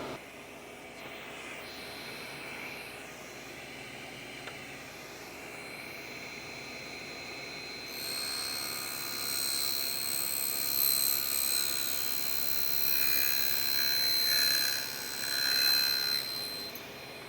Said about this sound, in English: We can safely cut this metal material without setting off the brake.